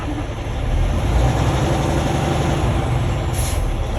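Truck air brake releasing with a sharp hiss over the heavy, steady rumble of an idling diesel truck cab.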